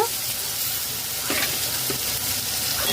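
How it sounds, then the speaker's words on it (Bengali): Capsicum sizzles steadily in hot oil with tomato puree over low to medium flame, a continuous close frying hiss with a couple of brief stirring scrapes. "গ্যাস লো টু মিডিয়াম ফ্লেমে করে দিয়ে ক্যাপসিকাম দিয়ে দেব"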